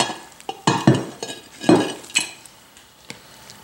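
Metal cutlery clinks and scrapes against a dish while a baked chicken and stuffing casserole is cut, giving several sharp separate knocks with short gaps, close up and with no talking.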